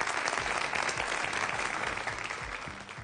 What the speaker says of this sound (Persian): تشویقشون بکنیم بیان بالا.